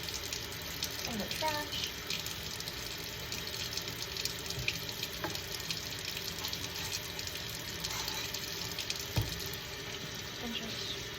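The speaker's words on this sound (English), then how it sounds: "we're going to turn on some lukewarm water" Lukewarm tap water runs into a sink during a pharmacy-technician handwashing routine, a faint, steady splashing hiss throughout with a few soft clinks. A voice speaks briefly.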